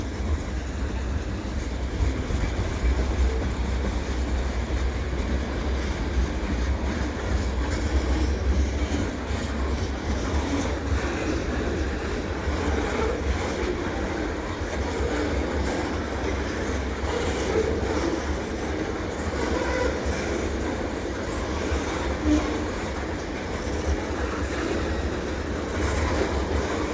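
Long CN freight train of snow-covered tank cars, led by SD75i and SD70M-2 locomotives, rolling steadily past in winter, with a continuous low rumble and rhythmic clickety-clack of wheels over rail joints, no voices.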